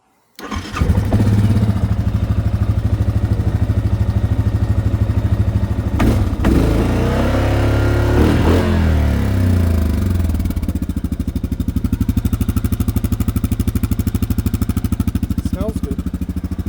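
A Yamaha Grizzly 550 ATV engine cranks and catches, then settles into a loud, steady idle with a throbbing low rumble, heard close up for over fifteen seconds with brief thumps and throttle changes partway through.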